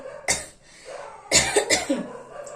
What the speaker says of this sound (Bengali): হঠাৎ করে দিকে এখন একটু কাশি হচ্ছে